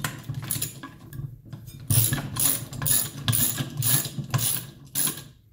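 A ratchet tightens bolts on a cyclekart rear axle sprocket, giving close, loud bursts of rapid clicking in a repeated back-and-forth rhythm, about five strokes with brief pauses.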